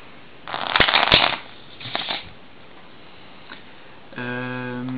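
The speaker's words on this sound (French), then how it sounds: "Je vais pouvoir le mélanger." A Bicycle deck of playing cards shuffled by hand, a close riffle burst followed by a shorter second riffle, then a quiet pause and a final bridging flutter of cards.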